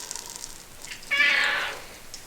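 A house cat meows once in a kitchen, a drawn-out, mid-loud cry lasting about a second, with faint clatter before and after and no talking.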